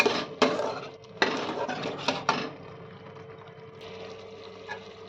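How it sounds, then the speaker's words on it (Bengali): Spices being stir-fried in a pan for a Bengali jackfruit and potato curry, with a few sharp scrapes and clinks of a spatula against the metal pan over a steady low sizzle, near and without talk. "এবার মশলাগুলো ভালোভাবে কষে নেব"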